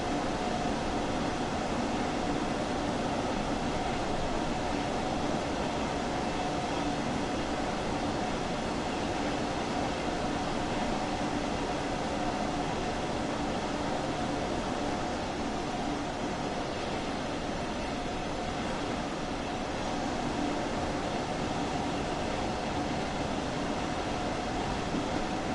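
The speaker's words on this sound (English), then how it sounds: "I was just waiting for this train to pass." A train passing in the Train Sim World 2 Dresden commuter route, heard as a long, steady rumbling rail roar with a constant hiss, unchanging in loudness throughout, with no voices.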